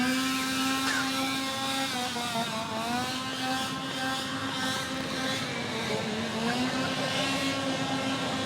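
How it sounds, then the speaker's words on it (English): Chainless chainsaws at a Halloween haunted house scare attraction, a steady loud buzzing engine whine that holds and wavers in pitch throughout, continuous and close. "no chains on the chainsaws, just a lot of noise"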